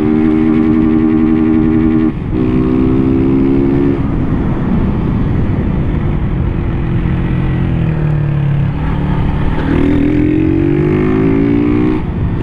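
A modified Honda Start motorcycle engine drones steadily while riding down an avenue, loud and close, its pitch climbing and falling as the rider shifts through gears.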